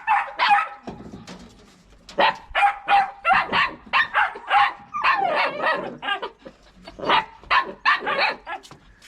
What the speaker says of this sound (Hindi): एक तो जब कुत्तों ने बड़ा शोर किया हुआ है